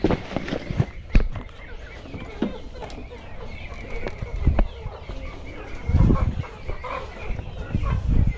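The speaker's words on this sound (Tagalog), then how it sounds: "Andiyan na yung mga manok niya oh." Chickens cluck around a rural yard, soft scattered calls amid steady outdoor background noise, with occasional thumps and footsteps nearby and some low voices.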